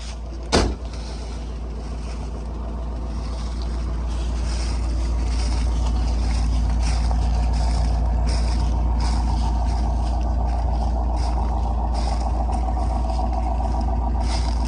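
A 1956 Mercury Montclair's Y-block V8 catches with a sharp start and settles into a steady, close, continuous idle rumble that holds evenly throughout.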